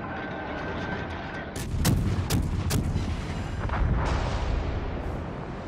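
Warship main battery guns firing in World of Warships Legends at a destroyer at close range, with several sharp booming salvos in quick succession over a steady rumble of engine and sea noise.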